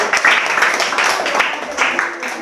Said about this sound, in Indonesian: kasih tepuk tangan untuk kelompok jari-jari.